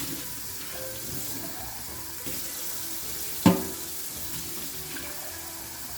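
Tap water runs steadily into a sink while a drinking horn is rinsed of soap, a continuous close splashing stream broken by one brief sharp knock partway through.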